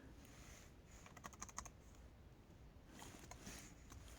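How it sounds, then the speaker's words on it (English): Typing on a computer keyboard, quiet rapid clicks in short irregular bursts, close but faint, over a soft background hiss with no voices. "If you can hear me typing"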